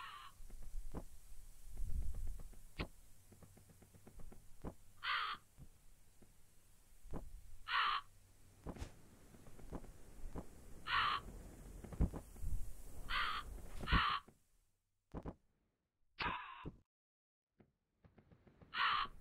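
Crows caw in the video game DarkMaus, harsh single calls repeating every few seconds over a low ambient bed with soft thuds, moderately close, no speech.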